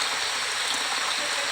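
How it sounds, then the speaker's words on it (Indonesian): Rain falls steadily outdoors in a village, a dense, loud, continuous hiss of drops with no breaks and no voices. "Oke, sekarang hujan."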